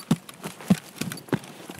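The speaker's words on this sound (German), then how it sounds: "ich komme gerannt, hörst du mich rennen?" Quick, rhythmic running footsteps of a player character in the video game Escape From Tarkov, about five thudding steps at an even pace, close and clear, with no talking.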